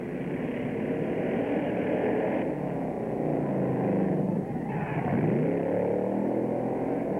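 A fire truck engine rumbles steadily at a 1965 New York State firemen's drill in Utica, heard as a loud, sustained drone that rises and shifts in pitch as it revs.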